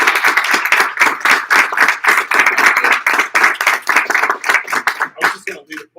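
A small audience claps after a talk on white collar crime, close and fairly loud rhythmic hand claps in a steady run that thins into a few scattered final claps.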